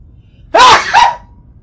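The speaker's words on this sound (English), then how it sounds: "That sneeze messed me up." One sudden, close sneeze from a man while he plays Elite Dangerous, a short two-part burst of breath and voice that cuts through the quiet room.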